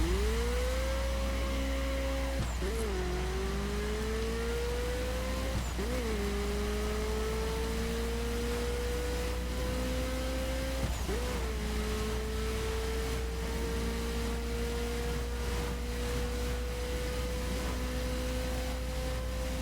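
Old-school Ferrari engine in a racing video game, a steady whining tone that rises and falls through about four gear shifts, sustained and prominent over a low hum.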